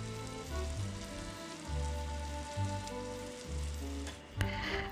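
Spring onions sizzling as they go into minced chicken with cucumber bits, a steady hiss and crackle under low background music, ending in a short sharp clatter, no talking.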